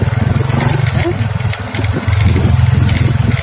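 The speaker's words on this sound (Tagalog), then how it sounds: "So okay na naman yung takbo ng motor natin, di ba?" Honda XRM 125 motorcycle with a freshly overhauled carburetor running at a steady idle, a close, loud pulsing engine putter with a low rhythmic thump throughout.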